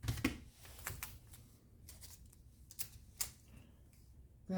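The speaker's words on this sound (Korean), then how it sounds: "뭐 이쁘게 자르시려면 쪽가위를 이용해서 잘라주시고요." Small scissors snip masking tape during leather restoration work, a series of quiet, sharp clicks and cuts spaced irregularly over a low background hiss, close and faint with no talk.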